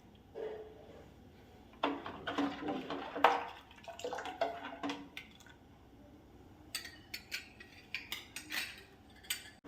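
A spoon clinks and scrapes against a bowl while sugar is stirred into milk for fruit salad, with irregular close taps and swishes that trail off into faint wet clicks.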